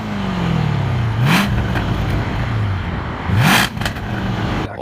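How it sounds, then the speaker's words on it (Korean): A ten-year-old Jaguar large-engine luxury car with its exhaust valves closed in quiet mode: a muted, mid-pitched engine hum swells in two short revs, each rising sharply in pitch. "좀 더 일반적인 대형 엔진을 가진 고급차처럼 들리죠."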